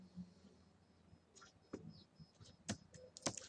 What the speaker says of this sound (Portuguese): pressiono a tecla Enter